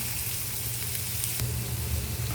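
Ginger, onion and black pepper sauté in a hot pan, giving a steady, close sizzle over a low background hum, with no voices.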